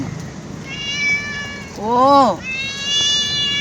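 A pet cat meows, a faint drawn-out cry followed by a louder, rising-and-falling meow close by, while a person talks over it.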